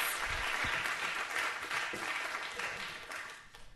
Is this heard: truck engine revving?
no